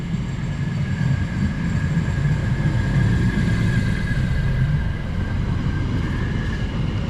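A train pulls into a station on the Hertford East branch line with a loud, continuous low rumble and steady rolling drone of wheels and motors, heard up close and without speech.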